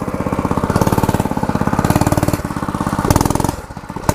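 A motorcycle fitted with an FMF Super Power Core 6.9 Factory Edition exhaust revs loudly and harshly up close, a rapid, continuous, pulsing engine roar that holds steady before dropping off near the end.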